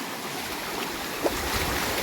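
A stream running full after heavy rains near a remote village, heard as a steady, broadband rush of flowing water close by with no voices over it.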